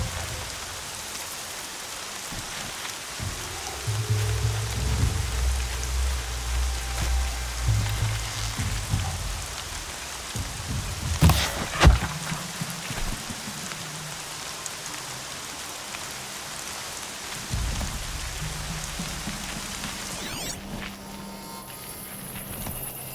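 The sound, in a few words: rain falling in video game Horizon Zero Dawn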